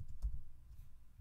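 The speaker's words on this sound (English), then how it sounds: "I'll start typing" Typing on a computer keyboard while working in a script library, heard as a short, close run of soft clustered key taps with no talking.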